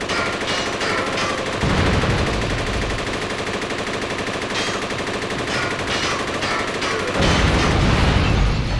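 Relentless automatic gunfire aimed at tanks in Jet Li Rise to Honor, loud and close, running the whole stretch with heavier booming bursts at the start and near the end, no voices heard.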